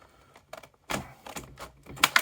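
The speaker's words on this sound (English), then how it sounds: "we've got a strong pair of scissors, so we're just going to cut down here" A strong pair of scissors snips through cardboard packaging in a few sharp, crisp cuts, close and dry, with short clicks and crunches spaced irregularly.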